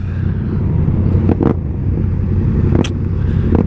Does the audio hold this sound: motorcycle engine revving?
yes